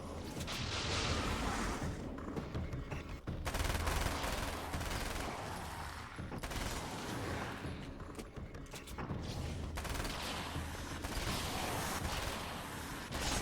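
SMG gunfire in the video game Alan Wake's American Nightmare, sustained bursts of rapid shots with brief pauses between strings, fairly quiet and heard with little talk.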